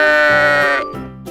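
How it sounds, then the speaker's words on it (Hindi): A domestic farm sheep bleats loudly and close by in one long, quavering call, then starts a second, shorter bleat. "भेड़,"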